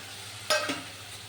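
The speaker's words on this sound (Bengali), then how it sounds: "এখানে মশলা কষছি এখানের মধ্যে এর মধ্যে পেঁয়াজ আর রসুনটা ভাজা হয়ে গেছে" Spices frying with onion and garlic in a pan, a faint background sizzle broken by one sharp stir or scrape and a smaller follow-up hiss; no voices.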